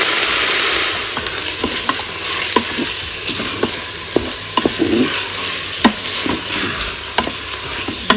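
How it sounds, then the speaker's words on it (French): About 400 grams of minced meat browns in a Cookeo Touch Wifi multicooker for a penne bolognese. A steady close sizzle runs throughout, broken by repeated scraping clicks from stirring. "On va pouvoir ajouter la viande hachée"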